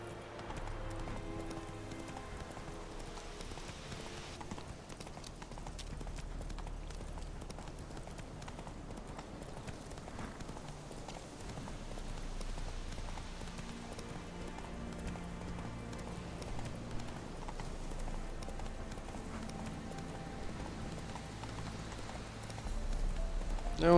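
Roach the horse in Witcher 3 clip-clopping along, steady hoofbeats in an irregular walking rhythm, moderately close and fairly quiet, with game ambience underneath and no talking.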